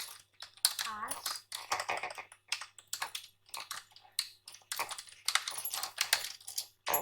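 Rapid, uneven typing on a computer keyboard while writing in LibreOffice Writer, with close clicking keystrokes in bursts and pauses, heard mostly on its own with little else around it.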